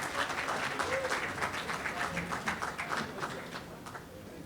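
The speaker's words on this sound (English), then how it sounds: "another round of applause for our mayor, Andre Dickens." Crowd applause for the mayor at an MLK Jr. prayer breakfast, a dense, steady round of clapping filling the room, with some voices mixed in and fading slightly toward the end.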